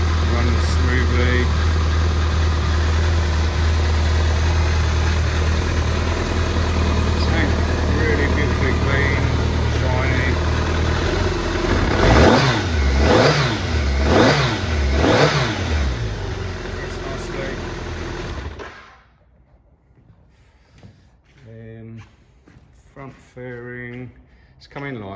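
A 2004 BMW K1200RS motorcycle engine idles close by, then revs in several rising and falling blips before cutting off, with a voice speaking afterward.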